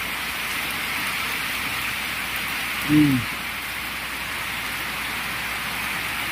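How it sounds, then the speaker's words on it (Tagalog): Steady, heavy rain from Typhoon Wilma in Bicol pours down with a constant hiss, wind picking up, with a brief low rumble of a passing vehicle midway. "Mas lumakas-lakas ang ulan ngayon at medyo may hangin-hangin na."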